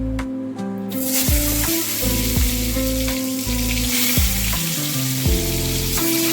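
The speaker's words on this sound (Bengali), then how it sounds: "কড়াইয়ে তেল গরম হয়ে গেছে, আমি পটলগুলোকে হলুদ আর নুন দিয়ে মাখিয়ে নিয়েছি। এবার পটলগুলোকে ভেজে নেব।" Pointed gourd pieces coated in turmeric and salt fry in hot oil in a wok, giving a loud, steady sizzle throughout, with tonal music playing underneath.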